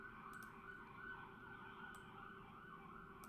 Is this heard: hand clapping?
no